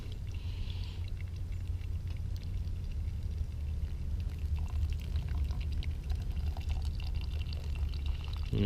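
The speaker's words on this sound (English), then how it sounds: "just kind of pour it over your grounds" Hot water poured slowly over coffee grounds for trail pour-over brewing outdoors, a steady close trickling and splashing stream that runs continuously without talk.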